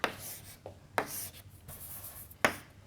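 Chalk or marker writing equations on a board gives short scratchy strokes, three sharp taps with fainter scrapes between them, close and clear in a quiet room.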